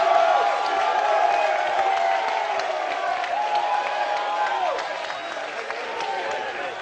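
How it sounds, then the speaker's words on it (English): A large arena crowd at an MLG Championship Sunday esports match cheers and applauds in a steady, loud roar that fills the whole stretch with scattered whoops. "They got the crowd into it."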